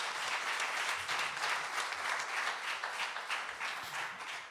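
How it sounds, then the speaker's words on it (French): A church congregation applauds together during a celebration service, a dense, steady wash of many hands clapping that fills the room for several seconds with no voices on top. "que ceux qui le croient applaudissent Jésus"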